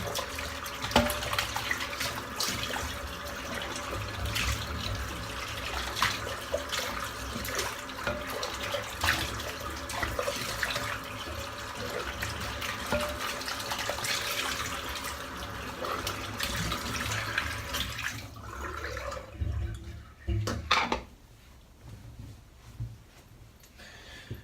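Hot water runs steadily from a tap onto a puck of Phoenix and Beau Sanskrit shaving soap, a continuous close splashing hiss that cuts off near the end, leaving a few drips and small handling sounds.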